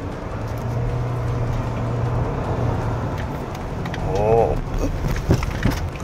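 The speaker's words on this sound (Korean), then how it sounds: "자, 지금 정차 상태에서 출발 한번 해볼게요." A KGM Actyon hybrid accelerating at full throttle from a standstill, a steady motor drone and road rumble that build slightly, with some mechanical whirs and a voice faintly mixed in.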